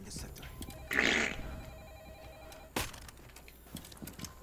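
A telephone rings inside a video game with a bright, close electronic trill, followed by a sustained tone and a sharp burst of game noise, all under low background activity.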